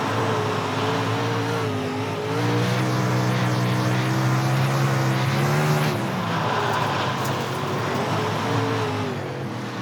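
Race car engine accelerating in iRacing on a slick track, a loud steady high-revving drone that climbs and shifts pitch, with tire noise underneath, close and continuous.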